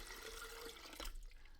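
Water pours into a glass pitcher to soak a filter, a short close splashing trickle that tapers off after about a second.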